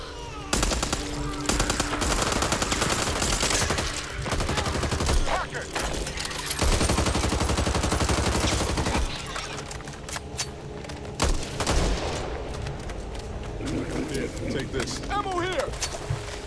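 Rapid bursts of gunfire and explosions in the video game Back 4 Blood crackle continuously, loud and busy, mixed with game effects throughout.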